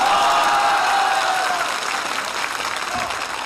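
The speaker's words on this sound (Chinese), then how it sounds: "此处有雷鸣般的掌声" Thunderous applause from a comedy sketch audience, loudest at the start and easing slightly while a tone lingers early on and faint voices mix in.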